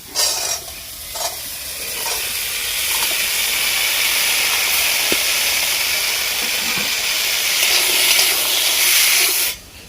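Cauliflower frying in hot oil in a pan for a Bengali vegetarian curry, a steady loud sizzle and hiss that holds for several seconds, with a few stirring knocks at the start, then cutting off abruptly.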